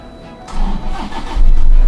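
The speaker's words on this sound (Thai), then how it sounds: "เช็คเรียบร้อยก็สตาร์ทเครื่องได้ครับ" Toyota Vigo pickup engine cranking and firing up after an oil change, a short starter churn followed by the engine catching and settling into a loud, steady low rumble close by.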